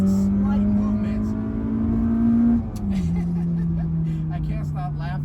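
Honda Accord Euro R CL7 engine revving hard while driving, a loud sustained drone that climbs in pitch, drops briefly as the gear changes, then pulls steadily again, heard from inside the car.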